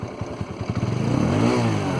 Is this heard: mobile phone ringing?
no